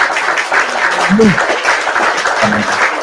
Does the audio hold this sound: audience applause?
yes